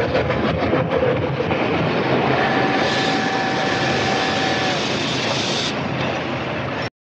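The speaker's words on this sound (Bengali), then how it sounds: "সকালের ট্রেন এলো।" A train arriving as a sound effect in a Bengali audio drama, a loud sustained rumble with a brief high whistle tone through the middle before cutting off abruptly.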